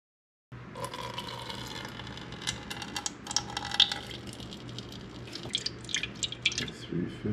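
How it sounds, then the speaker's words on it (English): Tap water for bread dough trickling and dripping into a bowl on a scale, a light irregular splashing with small drips that builds over several seconds, close by, with no talking over it. "I just use water out of the sink, out of the tap."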